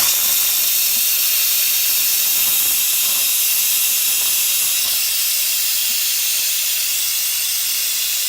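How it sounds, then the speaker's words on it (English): An Instant Pot releasing pressure through its vent valve with a dishcloth draped over it, a loud, continuous, steady hiss of steam held close for several seconds without a break. "have it vent all of the steam out of the Instant Pot"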